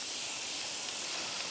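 Butterflied lamb leg laid on a hot barbecue over direct high heat gives a loud, even, continuous sizzling hiss.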